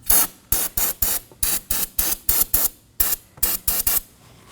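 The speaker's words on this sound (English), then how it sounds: "I'm going to clean the surrounding area with some brake cleaner and a rag." Brake cleaner is sprayed around the brake fluid reservoir of a 2015–2023 Nissan Maxima, loud, close hissing bursts in a quick irregular series of about eleven short sprays with brief gaps between them.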